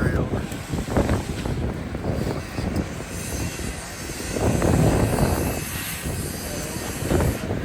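Strong gusting wind roars across the microphone at an outdoor construction site where concrete is being poured in the cold, a loud continuous rumble that swells and eases in waves.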